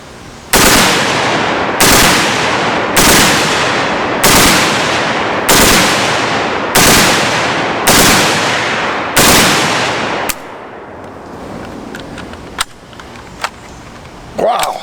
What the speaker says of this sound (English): Let's try full auto in bursts, because these things have a tendency to rise.